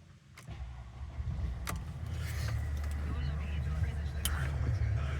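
A 2010 Mercedes-Benz CLS350 Grand Edition with AMG styling cranks with a brief click and whir, then its engine catches and settles into a low, steady idle that grows slightly louder, close by.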